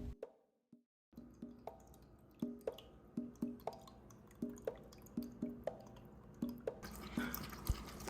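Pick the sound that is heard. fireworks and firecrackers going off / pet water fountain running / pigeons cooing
pet water fountain running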